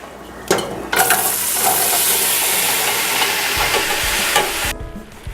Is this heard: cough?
no